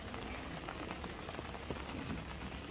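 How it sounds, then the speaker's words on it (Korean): Rain falls at night onto the water of a pond, a faint, even hiss with scattered soft droplet ticks, steady throughout. "이 빗물이 떨어져서 물을 살짝 흔들어 놓는 것 같아요."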